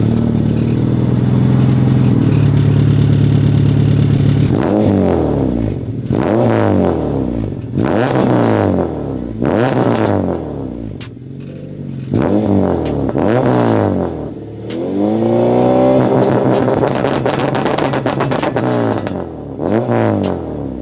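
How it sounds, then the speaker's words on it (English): Acura RSX with small mods, engine idling steadily and then revved repeatedly, each rise and fall of pitch loud and close with a throaty mid-range tone. "That's what the RSX is sounding like now."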